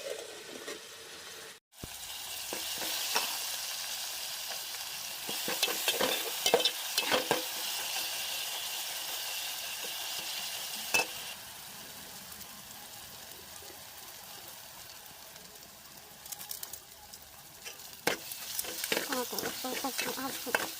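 A small-fish curry cooks in a pan with a continuous soft sizzle and bubbling. Scattered clinks and stirring noises come and go over it, with faint background voices at times.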